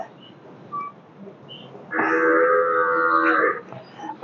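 A cow at a cow shelter gives one long, loud, deep moo of about a second and a half after quiet background murmur, with a soft thump at the end.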